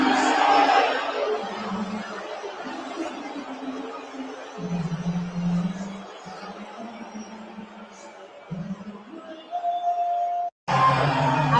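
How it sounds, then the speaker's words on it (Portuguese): A large arena crowd at the NBA Finals boos Donald Trump, a sustained, loud low droning jeer with shifting swells and a murmur of chatter and scattered laughter, cutting off briefly near the end. "Muita vaia para o Donald Trump na final da NBA."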